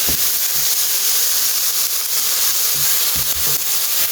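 Carrots stir-fry on high flame for chicken cutlets, a loud continuous sizzle and hiss broken by a few clanks of a spatula against the pan.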